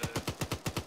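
Machine gun firing in the video game Arma 3, a steady burst of about seven evenly spaced sharp shots in under a second, loud and close with no talk.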